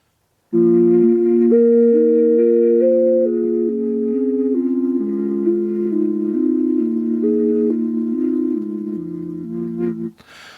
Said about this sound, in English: So what you heard is, I was randomly closing and opening